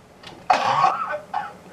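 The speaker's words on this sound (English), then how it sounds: "Cover your face in your mouth when you're coughing" A man in a mukbang eating video coughs, a sharp heavy hack followed by a rough follow-up and a shorter cough, close and fairly loud with no talk over it.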